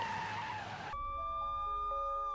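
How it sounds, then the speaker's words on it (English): A car skids with a broad rush of tyre noise that cuts off abruptly, followed by sustained steady tones like a horn or alarm ringing on after the impact, in a staged insurance-scam collision in Los Angeles where a second car plows into the driver. "a second car barrels down and plows into me"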